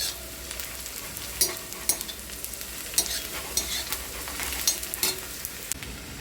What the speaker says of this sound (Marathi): कांदा लालसर होईपर्यंत भाजायचा